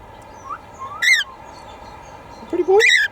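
A cockatiel whistling in an aviary, two short bright chirping whistle bursts close by, separated by a quiet pause, over faint background hiss.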